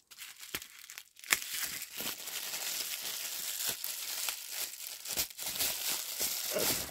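Bubble wrap crinkles and rustles in close, irregular bursts as a parcel from a second-hand purchase is unpacked, with sharper crackles and snaps between softer handling noises, no voices.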